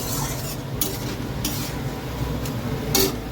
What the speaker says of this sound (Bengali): এই পেঁয়াজটা হালকা ভাজা হোক